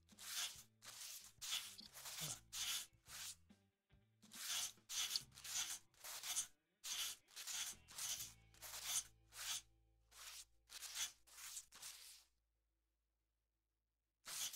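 Repeated sandpaper strokes on car paint in Car Detailing Simulator, a steady rhythmic rubbing of short bursts with brief pauses, close and fairly quiet, alone without talk.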